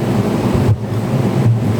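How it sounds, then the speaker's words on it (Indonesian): An electric fan blows steadily indoors, a loud broadband rushing like wind close to the microphone, with brief dips in the flow. "Suara angin dari mana? Dari kipas."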